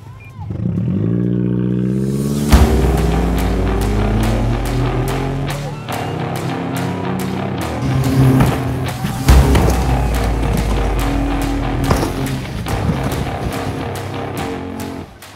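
A giant radio-controlled car drives loudly and crashes into a wall, its sustained engine roar broken by heavy thuds and clattering impacts, with the roar continuing and rising again after each hit.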